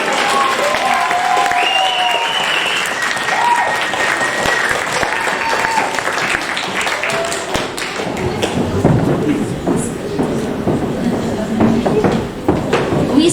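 An audience at a book publishing event gives a loud, sustained round of applause for a woman called up on stage. Dense clapping fills the room throughout, and a voice speaks over the tail end.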